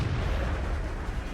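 A tank cannon firing in the video game World of Tanks, a deep, booming blast with a rumbling low-end roll that fills the short moment, loud and close with no talk.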